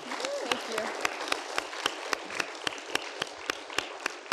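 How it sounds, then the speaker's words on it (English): A round of applause from the audience at a student conversation event with an environmental organization director, steady dense clapping with some sharper individual claps standing out, moderately distant and soft. "So can we give Kate a round of applause as well?"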